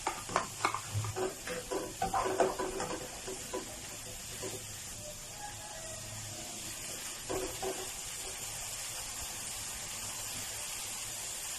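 Bite-sized pieces of chicken breast are stir-fried in a pan, with scraping stirs and sizzling up close at first, then settling into a steady, faint hiss.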